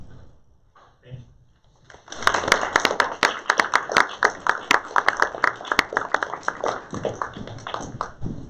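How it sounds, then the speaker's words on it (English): An audience applauds after a literary reading, breaking in after a short near-silent pause with dense, steady clapping that stays loud and close through to the end. "Can we have one more round of applause for everyone?"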